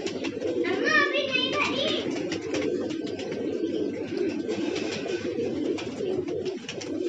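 Pigeons coo and flutter steadily in a busy home pigeon loft as birds come out to fly, with faint chirps and a voice briefly rising over the continuous bird noise.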